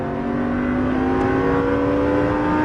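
Supercar engine on a Las Vegas race track, a loud, sustained high-revving drone rising steadily in pitch as the car accelerates, with no voices heard.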